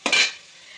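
Chillies hit hot oil in a pan while tempering for a sambar. The result is one short sharp sizzle that quickly fades to a faint hiss.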